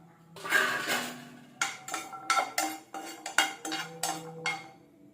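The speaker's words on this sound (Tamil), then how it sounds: "அடுத்தது பூண்டு ஒரு ஒம்பது பல்லு எடுத்து வச்சுருக்கேன் இதை நம்ம வந்து ரோஸ்ட் பண்ணிக்கலாம்" Nine garlic cloves being dry-roasted in a pan for idli powder: irregular clinks and scrapes of a utensil against the metal pan, a dozen or so sharp knocks spaced unevenly, close and clear with no talk.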